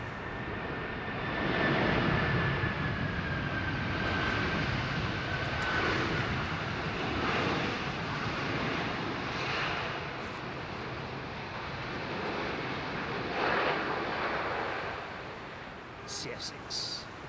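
An Air Algiers airliner landing on runway 27R at London Heathrow, its engines roaring steadily at a distance and slowly fading, with people talking over it.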